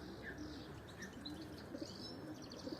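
Young pigeons in a loft coop give soft cooing and chirping calls with a few light wing flutters, faint and close against a low background hush.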